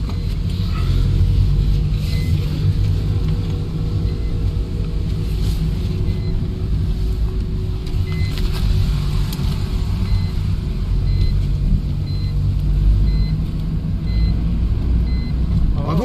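A car drives along a back road leading to a forest at night, giving a steady low engine and road rumble that stays loud and even throughout with no talk.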